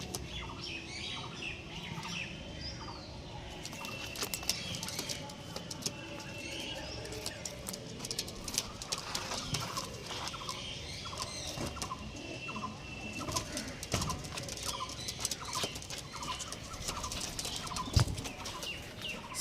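A loft of pigeons with young squabs, continuous soft cooing and occasional squawks mixed with repeated wing flaps and shuffling clicks, moderately close and fairly quiet, without voices.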